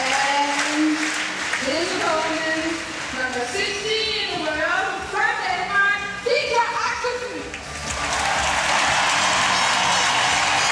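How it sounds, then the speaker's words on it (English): A Danish crowd in a badminton arena cheers and applauds a badminton player with a steady, loud roar that dips while a commentator talks over it, then swells again. "the cheer just that little bit louder"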